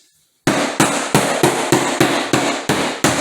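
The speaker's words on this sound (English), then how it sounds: "Bang it down with a rubber hammer and you're all set." Nine sharp, evenly spaced knocks of a rubber mallet on floor planks, close and loud, each with a short decay, after a brief silence.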